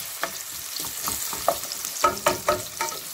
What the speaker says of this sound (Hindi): तो प्रॉन डाल के भूनेंगे।